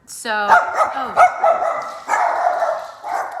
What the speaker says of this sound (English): Throughout most of my videos, you will hear my dogs barking